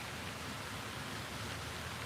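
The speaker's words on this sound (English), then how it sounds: "Oh, it is starting to rain." Rain beginning to fall as a steady, even hiss, like drops on a surface, continuous and fairly faint throughout.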